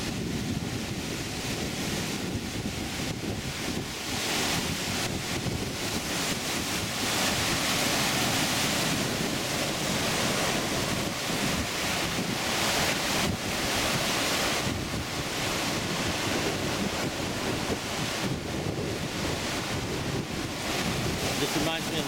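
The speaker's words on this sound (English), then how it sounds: "Look at the surf coming in." Surf rolling onto Kaanapali beach on Maui, a steady, loud wash of breaking waves with heavy wind buffeting the microphone throughout, no clear voices.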